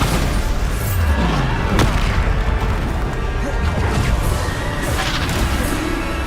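A Bombarda spell in Hogwarts Legacy gives booming blasts and crashing impacts within a dense, loud mix of game combat noise that rumbles on throughout.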